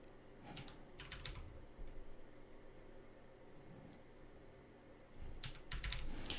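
Someone types a password on a computer keyboard, quiet clusters of quick key taps coming in short bursts with brief pauses between them, close and faint in an otherwise hushed room.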